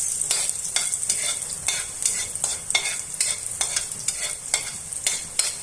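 Garlic sautéing in hot oil in a pan, a steady bright sizzle with a regular series of scraping stir strokes, close and fairly quiet, with no talking.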